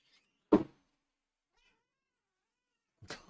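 Cats let out two short, sharp cries, faint and somewhat distant, separated by nearly three seconds of near silence.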